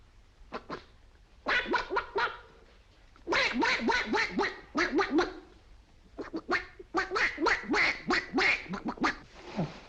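A man imitates a duck's quack with his voice, giving a long string of loud, nasal quacks in bursts separated by short pauses, close to the listener with no other sounds.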